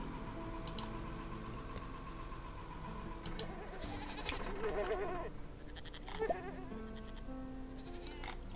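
Goats bleating in the Farm Manager 2021 farming game, a few wavering bleats standing out over a steady low game hum and faint clicking.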